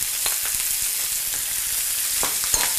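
Veal flank steaks sizzle steadily in butter in a hot pan, a close, continuous crackling hiss with small pops scattered through it.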